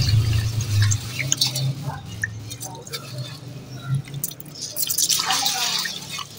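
Rice being washed in a pot of water, with soft dripping, sloshing and splashing of liquid running through the grains, steady and close by under faint background noise.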